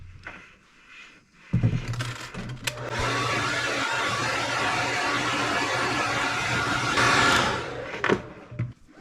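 A heat gun drying fresh spray paint on a custom-painted fishing lure blows a loud, close, steady rushing whoosh for about six seconds, starting and stopping with clicks and a little handling noise at each end.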